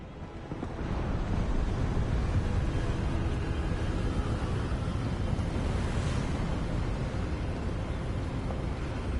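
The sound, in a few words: wind blowing in Hogwarts Legacy video game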